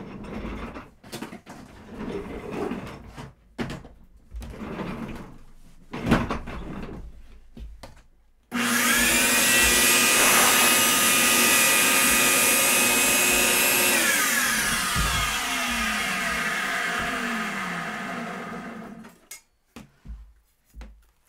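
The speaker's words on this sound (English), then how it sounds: "Vacuum up that dust." A vacuum cleaner sucks up dust from a guitar neck during truss rod and fret work, a steady loud roar running about ten seconds before winding down, with quieter tool handling noises before it.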